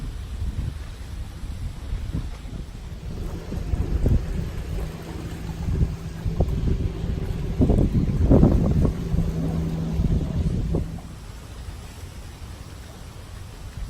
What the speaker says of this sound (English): Wind is doing crazy things with my hair.